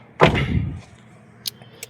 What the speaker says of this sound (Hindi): अब ये दरवाज़ा बंद करते हैं